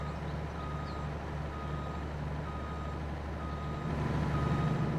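Steady electronic reversing beeps from a truck in a farming video game, repeating in an even rhythm over a constant engine drone, with no talking.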